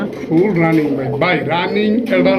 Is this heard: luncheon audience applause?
no